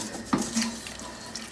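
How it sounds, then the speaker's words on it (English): Water is poured into a pan of pancetta and vegetable soup, giving a short splash followed by a soft running trickle at close range. "I'm actually going to add some water to it"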